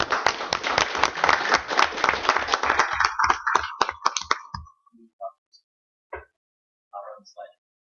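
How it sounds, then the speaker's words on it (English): Applause at a town council meeting: a modest room of people clapping for a few seconds, the claps thinning out and then leaving a few scattered claps and small sounds in near silence. "and a big round of applause"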